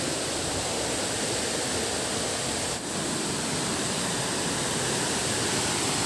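Kedung Pedut waterfall in Kulon Progo flowing hard in the rainy season, a dense, unbroken roar of rushing water filling the scene at constant loudness.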